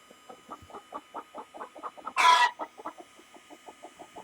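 A homestead chicken clucks in a steady run of about twenty short, evenly spaced notes, broken midway by one loud, sharp squawk, close up in cold weather with no talking.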